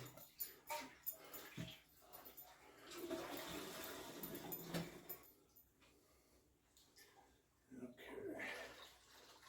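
A dog whimpers and shuffles about in a room during home moonshine making, with splashing water and a toilet-flush-like rush mixed in, and people speaking over the scene at close range.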